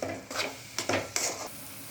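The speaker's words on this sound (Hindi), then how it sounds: "अब ये लगभग 2 से 3 मिनट तक फ्राई होगा।" Spice masala with mustard paste fries in a pan for a Bihari-style fish curry, soft sizzling broken by several scraping stirs of a spoon against the pan, close and quiet.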